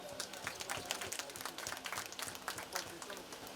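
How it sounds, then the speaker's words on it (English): An event audience applauds the RRP group of companies, a drone maker in Mumbai: quick, fairly faint clapping from a modest crowd, with a murmur of voices beneath. "Can we have a huge round of applause for the RRP group of companies?"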